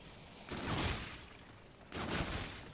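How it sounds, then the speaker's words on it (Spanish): Two heavy shotgun blasts go off in a zombies shooter game, the Shaolin Shuffle map, spaced more than a second apart, each a broad booming crack with a short decaying tail over quiet background. "La escopeta."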